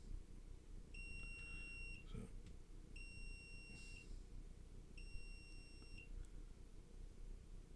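A phone gives three steady, high-pitched electronic beeps about two seconds apart, each lasting roughly a second, over a low background rumble with no talking.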